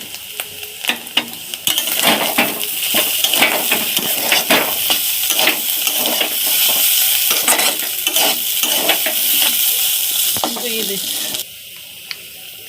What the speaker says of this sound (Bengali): চিকেন মশলা ছিল একটা সেটা হচ্ছে আমি দিয়ে দিলাম ভিতরে চলো নেড়ে দিচ্ছি